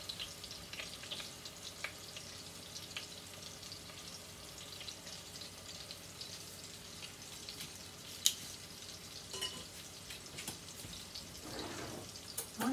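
Cocktail meatballs fry in a pan, giving a steady, soft sizzle with faint crackles and occasional light clicks of a spoon, heard fairly close and alone without talk.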